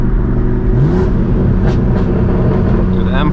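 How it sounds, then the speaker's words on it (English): Straight-piped BMW M4 G82 engine and exhaust droning loud and close, with a rising rev midway and crackling pops near the end, voices talking over it. "dude, the M4 is sounding so good"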